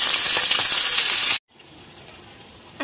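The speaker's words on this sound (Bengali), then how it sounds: "আর এখন দিয়ে দিচ্ছি ওই শাকটা।" Leafy greens hitting hot oil with garlic, a loud, bright rush of sizzling that cuts off abruptly and drops to a quieter, steady hiss.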